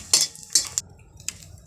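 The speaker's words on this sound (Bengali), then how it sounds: "ওই তেলের মধ্যেই দিয়ে দিচ্ছি জিরে তেজপাতা" Cumin and bay leaves dropped into hot oil in a pan for a fish curry with cauliflower and potato, heard as a few sharp metallic clinks of a spoon on the pan over a faint low sizzle.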